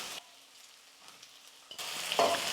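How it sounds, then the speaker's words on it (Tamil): Three handfuls of fresh green peas, unboiled, go into a hot frying pan for an egg Maggi masala, bursting into loud, steady sizzling after a brief quiet lead-in. "மொத்தமாக 3 கைப்பிடி அளவுக்கு நான் பச்சை பட்டாணி சேர்த்துக்கிறேன்"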